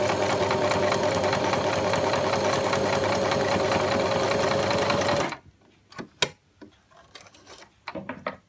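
A sewing machine fitted with a braid foot sews a zigzag stitch, running at a fast, steady clatter for about five seconds. It then stops, leaving a few scattered clicks and handling sounds.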